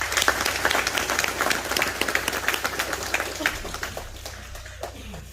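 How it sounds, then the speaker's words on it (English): An audience at a party event bursts into a round of applause, dense overlapping claps near and loud, gradually thinning out toward the end, with some voices mixed in. "Let's give them a round of applause"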